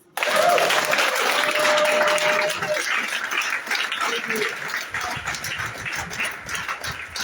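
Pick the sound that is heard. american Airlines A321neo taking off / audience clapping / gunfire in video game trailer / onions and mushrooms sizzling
audience clapping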